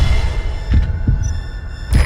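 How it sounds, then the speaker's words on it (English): A heartbeat sound effect in the stealth game Metal Gear Solid V, with deep, muffled thumps pulsing slowly and evenly over a low droning hum, loud and close. "A heartbeat"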